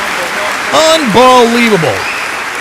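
A crowd applauds steadily as a backdrop while someone speaks loudly over it, the clapping a continuous hiss beneath his voice.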